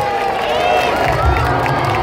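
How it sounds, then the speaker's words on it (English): A crowd of children and families at a live CBeebies dinosaur rap show, a loud mix of cheering, clapping and excited babble under an amplified voice, with a low thump partway through. "Give yourselves a big round of applause!"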